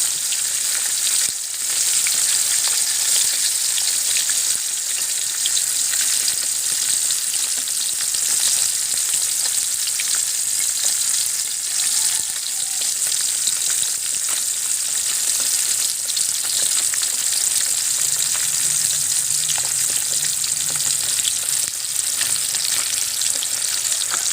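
Bilong-bilong fish sizzling steadily in a frying pan after being turned over, a dense continuous hiss of hot oil with no talk, close and even throughout.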